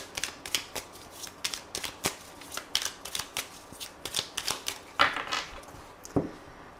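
Tarot cards being shuffled close up, a quick run of crisp riffling snaps and soft slaps in an uneven rhythm, fairly quiet, with no talk.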